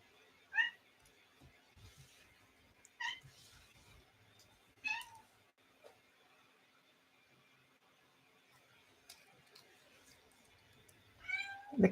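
A bored cat meows several times, each call short and spaced a couple of seconds apart, in a quiet indoor room with faint background hum and a louder final cry.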